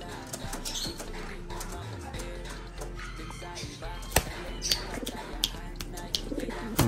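Agitated pigeons cooing and fluttering inside a coop, the low coos mixed with scraping and rustling, with a few sharp knocks and clatters near the end.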